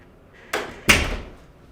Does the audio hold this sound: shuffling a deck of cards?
no